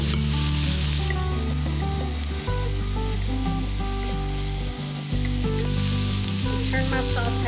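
Minced garlic sautéing with translucent onions in an Instant Pot on the sauté function, a continuous loud sizzle with stirring scrapes, accompanied by a low steady hum and background music tones.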